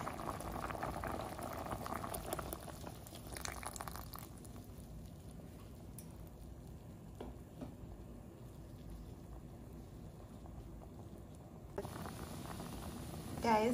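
A pot of coconut milk with butter and pimento seed bubbles on the stove, a soft continuous simmering burble with quieter stretches in the middle and faint handling noises at the ends.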